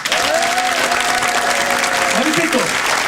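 A studio audience at a late-night talk show claps in a short warm-up burst, steady broadband applause throughout, with a voice speaking or humming over it.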